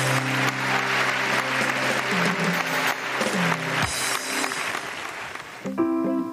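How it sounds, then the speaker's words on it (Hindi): A studio audience at a Pakistani TV talk show claps in sustained, dense applause, with music playing loudly underneath; the applause thins toward the end as the music shifts. "बहुत सारी तालियां"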